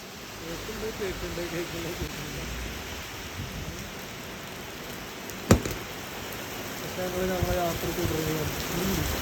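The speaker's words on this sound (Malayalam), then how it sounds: "പക്ഷെ നല്ല മഴയാണ്" Heavy rain pours in a constant, dense hiss on surrounding surfaces, broken by one sharp thunder crack midway, while a person talks over the downpour.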